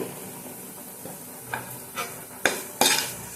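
Tomatoes fry with salt in a pan for paneer burji, a soft low sizzle under a series of spoon scrapes and clinks that grow louder and sharper toward the end.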